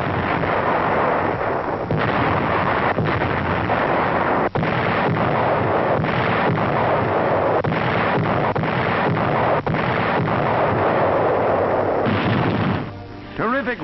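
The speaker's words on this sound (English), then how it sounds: "Strategic airfields are the objectives as the great fleet's guns open up." Naval fleet guns bombard the Okinawa shore in wartime newsreel footage, a dense, loud rumble of repeated blasts and booms throughout, with a narrator speaking over the barrage.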